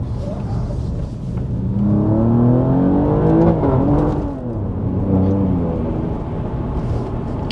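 An Alfa Romeo Giulia Quadrifoglio with its 510-horsepower 2.9 V6 engine pulls away in dynamic mode, its engine note rising and falling through revs in a steady, close, fairly loud drone.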